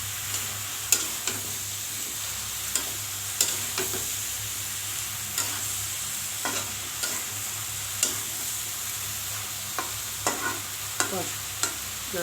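Shrimp and vegetables stir-fried in a pan, a steady frying sizzle broken by a dozen or so sharp scrapes and clacks of the spatula at irregular intervals, close and alone with no voices.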